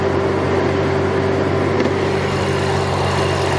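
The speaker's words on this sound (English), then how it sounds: "knowing there's that monstrous V8 under there making lots of power. It's quite an amazing engine," A 2007 Ford Mustang with a supercharged V8 runs at a steady idle, a constant close hum with an even whine and no change in pitch.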